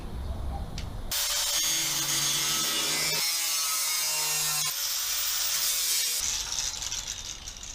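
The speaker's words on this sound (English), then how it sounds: "it pains me to cut holes in this stuff" Metal on a 1965 Chevrolet C10 truck is cut for holes with a power tool, giving a loud, steady grinding rasp with a wavering whine that starts abruptly, runs about five seconds and then stops, with no talking.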